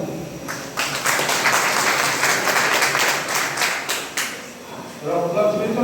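An audience at a political meeting marking Syama Prasad Mookerjee's birth anniversary claps loudly, a dense burst of many hands that swells, holds for several seconds, then thins out while a voice starts up at the end.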